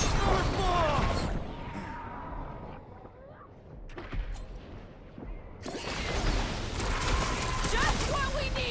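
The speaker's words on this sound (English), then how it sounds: "Bust out the smart bombs!" Smart bombs explode in Guardians of the Galaxy as loud, booming, crashing blasts at the start and again near the end, with a quieter stretch between them, under game voices and talk.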